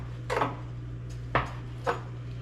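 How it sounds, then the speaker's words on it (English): A sharp knife trims fat from oxtail on a cutting surface, giving three faint, brief cutting taps spaced apart over a steady low hum, with no talking. "Take that fatty part right there, with your nice sharp knife."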